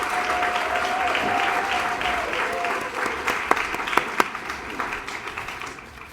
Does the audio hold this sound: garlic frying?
no